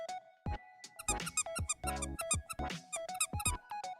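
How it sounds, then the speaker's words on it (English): A squeaky dog toy squeezed repeatedly, producing a string of sharp, close squeaks in irregular bursts, some drawn out and others short and quick. "Squeaky toy ASMR with the dog!"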